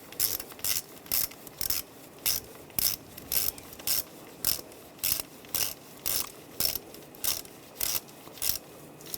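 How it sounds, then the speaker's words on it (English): A ratchet wrench tightening a nut down on a ground strap, sounding as a steady series of sharp, close ratcheting bursts, about a dozen evenly spaced strokes with brief pauses between them, no talking. "Put the nut on. Tighten those down."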